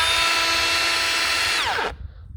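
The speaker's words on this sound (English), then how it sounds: "Here I have a DGA504 Makita brushless grinder." A Makita DGA504 brushless angle grinder running on a DeWalt battery through an adapter and making an unhealthy noise, with a loud high whine that abruptly spins down and cuts out near the end.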